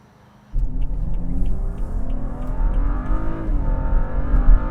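A BMW F30 335i engine fires into hard acceleration, its deep, loud, close rumble climbing steadily in pitch as the car pulls for several seconds, with no talking.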